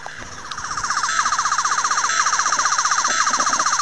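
A Doctor Who sonic screwdriver toy emits a rapidly warbling, pulsing tone, like a fast siren chirp, repeating steadily and fairly loud.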